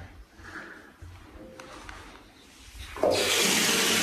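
Water gushes from an apartment tap with strong pressure, starting abruptly partway through and running steadily and loud at close range after quieter room tone.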